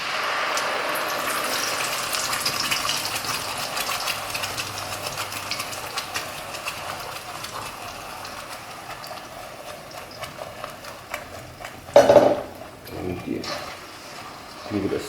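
Ground spice paste for Malaysian devil's chicken (chicken debal) hits hot oil and fries with a steady, close broadband sizzle, rising into a brief louder hiss burst near the end.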